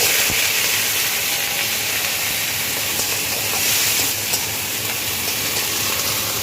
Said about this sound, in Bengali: আজকে উচ্ছে আর আলু ভাজা হচ্ছে